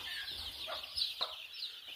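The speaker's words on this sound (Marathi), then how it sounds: "आता मी प्रथम पूर्ण पक्षी त्याच्यामध्ये टाकून घेतो।" Chickens being loaded in for a Lasota vaccination give soft, scattered clucks against a faint, steady background, quiet and close with no speech.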